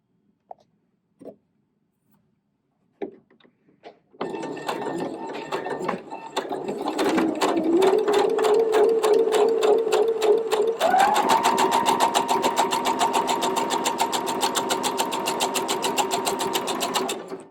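A sewing machine runs a backstitch on a fabric scrunchie: a few soft clicks and handling noises, then a steady close mechanical whirring stitch that rises slightly in pitch partway and continues to the end, with no talk.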